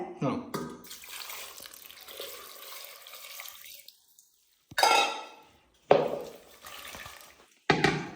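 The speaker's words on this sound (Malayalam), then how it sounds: "വെള്ളം ഒഴിക്കണേ" Water splashes into a cooking pot during curry preparation in a home kitchen. A few short bursts of pouring come between quiet gaps, with dish and pot clatter and a voice speaking nearby.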